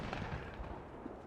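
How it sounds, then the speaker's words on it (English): A single gunshot in the zombie survival video game Project Zomboid sounds as a short muffled distant boom, low and thumping, with no talking. "And another gunshot."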